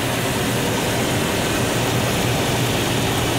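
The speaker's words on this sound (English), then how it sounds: "That needs to be checked with the engine running. And so I'll go ahead and start the vehicle." A car engine idling at operating temperature during a transmission fluid check, a dense, steady, loud broadband roar heard close up with no variation or talk.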